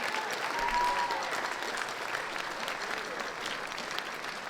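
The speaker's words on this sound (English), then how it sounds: "let's give one last round of applause" Applause from a concert crowd at a high school spring concert, a broad continuous clatter of many hands, loudest at the start and then settling to an even level, with no voices on top.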